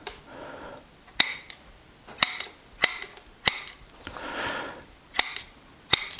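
Roots of a bonsai European hornbeam are trimmed with sharp shears, producing about six crisp, close snips in an uneven rhythm, separated by soft rustling of handled roots.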